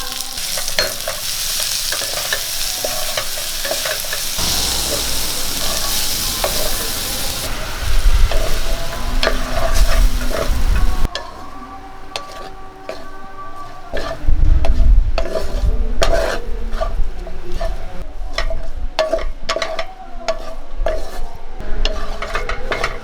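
Boiled green plantain is stirred and fried in a pan with Kashmiri chili powder, giving steady sizzling with scraping spoon strokes and occasional louder bursts of frying, close and continuous.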